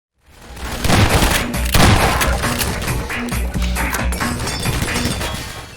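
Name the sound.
Strider firing through window in video game Half-Life 2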